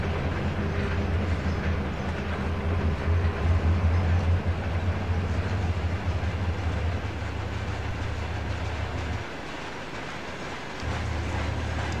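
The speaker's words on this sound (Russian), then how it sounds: "Там, кстати, звук тележек есть, звука двигателя нет." Steady rolling rumble of train bogies in the Trainz 22 railway simulator game, a continuous low droning run with no engine sound, briefly dropping away near the end before resuming.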